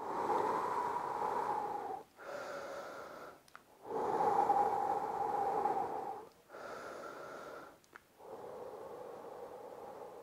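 During a home workout stretch, heavy, deep breaths come in long, noisy pulls of air separated by short pauses, close to the microphone and steady in rhythm, with no talking.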